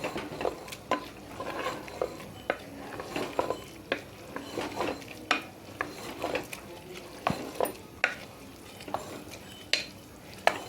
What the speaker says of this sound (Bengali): যে লাউটাকে গ্রেট করে রেখেছিলাম ওর মধ্যে দিয়ে দিচ্ছি আমি আঁচটাকে জোর দিয়ে দিচ্ছি দিয়ে এটাকে ভালো করে একটু এর সঙ্গে মিশিয়ে নিচ্ছি